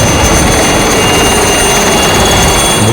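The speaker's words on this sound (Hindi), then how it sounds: "ये हेलीकॉप्टर और इसमें मौजूद कर्नल अलमदार ऑपरेशन सक्सेस का ऐलान करते हुए रवाना हो गए" Loud, steady roar of a departing military helicopter's engine and rotor, continuous and close, with no voices.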